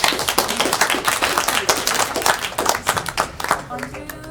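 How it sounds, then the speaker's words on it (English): A small audience at a student government senate hearing claps steadily for several seconds, a dense patter of hands that thins and fades toward the end. "Thanks for the claps, guys."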